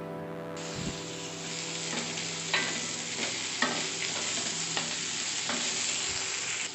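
Fried bitter gourd pieces tossed into a pan with cooked potato, a continuous loud sizzle with scattered scraping stirs of the spatula, close and without talk.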